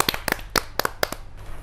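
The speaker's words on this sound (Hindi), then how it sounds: "तो ज़ोरदार तालियों से राजरानी सिंह जी का स्वागत करें" At a Hindi kavi sammelan, a few sharp, close claps ring out in an uneven rhythm as the audience welcomes the poet Rajrani Singh, fading out near the end.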